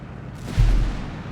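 A single low, heavy thump of mortar fire in Company of Heroes 3, landing just past the midpoint and dying off with a short rumbling tail, with no voice over it.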